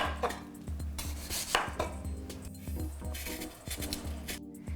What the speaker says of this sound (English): I'm gonna chop up some daikon radish.